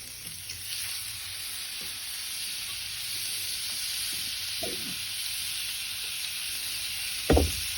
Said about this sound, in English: And dump our beef on there